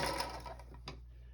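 A sewing machine stitches quilt fabric pieces from a charm pack chain block, a brief run of fast mechanical whirring with a sharp tick near the end, close and fairly quiet.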